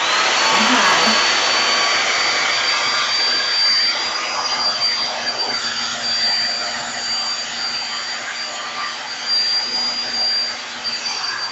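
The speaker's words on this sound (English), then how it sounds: "Normally around this time, I would turn on the blow dryer." A blow dryer whirs steadily up close, a constant airy roar with a high whine that holds for several seconds with slight shifts in loudness.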